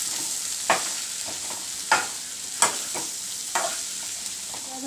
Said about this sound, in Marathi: आता चांगली मिक्स करायची फोडणीमध्ये.